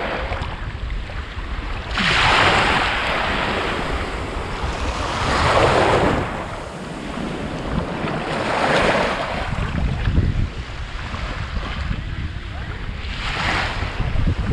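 Waves break in repeated surges on Devgad beach, a clean shore with casuarina trees, each crash swelling and fading every few seconds over steady wind noise, fairly close and loud.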